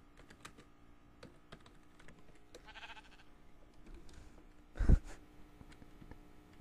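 A short sheep bleat from a video game sounds once amid rapid keyboard clicking and quiet background noise.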